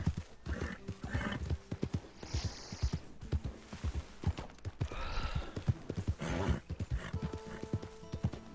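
A horse in the video game Red Dead Redemption 2 clip-clops steadily at a walking pace while neighing and whinnying a couple of times, fairly quiet and close.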